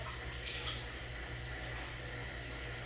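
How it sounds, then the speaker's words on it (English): Tap water running and splashing at a bathroom sink as a face is rinsed after a mild lactic acid peel, a steady close wash with brief brighter splashes. "I still feel it kind of working on my skin, so I am going to rinse my face."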